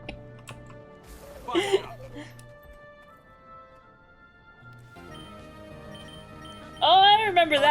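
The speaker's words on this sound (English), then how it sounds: "Typing." Keyboard typing during a Guild Wars 2 stream, light rapid clicks scattered under a steady game music bed, with bursts of nearby talk and a louder voice near the end.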